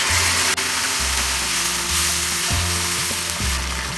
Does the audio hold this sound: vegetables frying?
yes